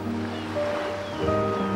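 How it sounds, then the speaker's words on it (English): Ocean waves wash onto the shore at a beach resort on Amelia Island, a soft continuous surf rumble with faint tonal hum layered over it, no voices. "you fall asleep to the rhythm of the waves on the shore"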